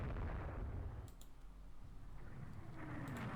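Warship guns firing during a naval battle in the strategy game Rule the Waves III, heard as a low rumbling boom that fades, followed by a few faint clicks and another dull rumble.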